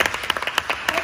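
Brief scattered applause from an audience at a Lucca Comics presentation, a few distinct claps patting out unevenly over about a second, moderately close and modest in volume.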